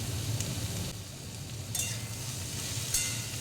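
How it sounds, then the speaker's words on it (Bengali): Potatoes with turmeric sizzle in a pan for a vegetarian potato and pumpkin curry, a soft continuous frying hiss with a few light scraping stir strokes, close and steady. "আলুগুলি ভালোভাবে নাড়াচাড়া করে নেব।"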